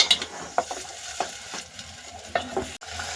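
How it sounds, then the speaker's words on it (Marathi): A ground masala paste sautés in oil as a spatula scrapes and stirs the pan in a few distinct strokes over a quiet, low sizzle. "हे आपण दहा सेकंद पूर्ण तेलामध्ये व्यवस्थित परतून घ्यायचंय वाटण"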